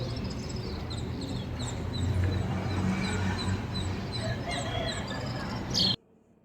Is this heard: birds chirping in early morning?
yes